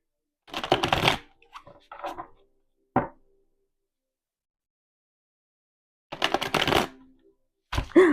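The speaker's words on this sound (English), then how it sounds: "I'll do some more shuffling." Bursts of playing cards being shuffled, a long riffle followed by a few short flicks and taps, then two more riffles after a pause.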